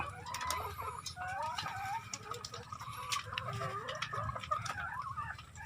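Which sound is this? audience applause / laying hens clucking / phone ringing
laying hens clucking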